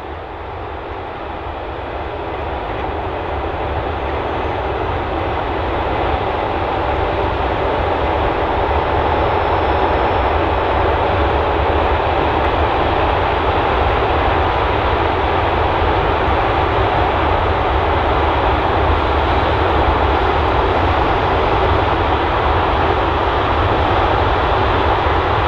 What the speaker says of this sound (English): let's head out to the field so that you can see and hear all this corn harvesting action.